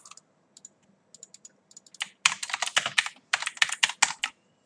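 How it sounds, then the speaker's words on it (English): Rapid jitter clicking on a computer mouse: a few scattered clicks, then dense bursts of fast, crisp clicking, close and steady, with no voices. "So, I want to try and practice jitter clicking."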